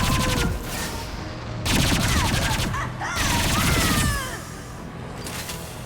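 A high impact shot fires in the video game Mass Effect 2, in loud bursts of gunfire and crashing impacts that come in two or three heavy waves, with chaotic combat noise and brief vocal cries in between.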